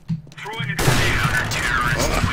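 A sniper rifle fires in a competitive shooter video game: one sharp report near the start, then a dense burst of gunfire and clatter running on under excited talk.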